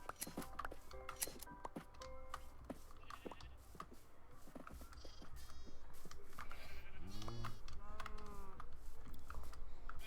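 Sheep bleat in Minecraft on Bedrock, several distinct wavering bleats over quiet clicking and faint background noise, near and moderately loud, with no talk.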